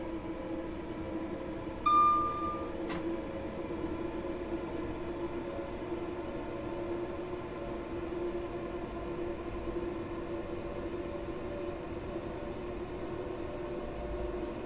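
A quiet train runs in Train Sim World 4, giving a low, steady hum and rumble with faint tonal whine throughout, broken by one brief chime or click near the start.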